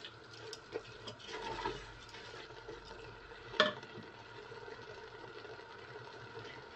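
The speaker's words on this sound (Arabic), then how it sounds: "نخليو هاد العناصر كلها تشحر مع بعضياتها." Ingredients for Moroccan harira, including lentils, sauté together in a pot. A faint, quiet sizzle runs throughout, broken by a single clear clink of a utensil against the pot partway through.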